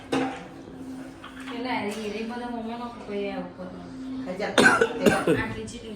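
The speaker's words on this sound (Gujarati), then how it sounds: "હજાર ઉધરસ થઈ ગઈ છે મને" Someone talks, then a short burst of coughing breaks in near the end, close and fairly loud.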